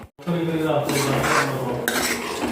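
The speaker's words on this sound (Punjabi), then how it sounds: "ਹੁਣ ਢੱਕ ਦਈਏ ਇਹਨੂੰ ਆਪਾਂ ਢੱਕ ਕੇ ਰੱਖਦਾ" A lid is set over a pot of simmering peas curry, a quick metallic clank and rattle ringing out near the start, followed by a steady ringing clatter of metal cookware close by.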